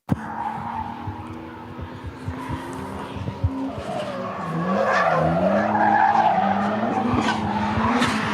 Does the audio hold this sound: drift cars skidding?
yes